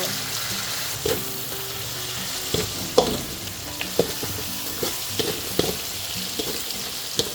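Pancit miki-bihon noodles frying in a pan with soy sauce, a steady close sizzle broken by clacks and scrapes of stirring, with no talking.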